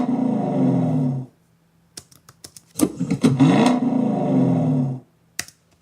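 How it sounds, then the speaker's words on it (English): A powerful car revving Foley sound gives two loud, throaty engine roars, close and sustained, with a short gap of faint clicks between them. "we needed the car revving, and we needed like a powerful rev"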